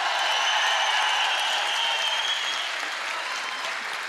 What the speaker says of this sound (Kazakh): Қол шапалақтар менен.